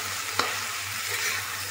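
Mustard seed and dry spice mix being stirred into pumpkin leaves and stems frying in a pan, a steady close sizzle with one sharp scrape of the spoon, no voices.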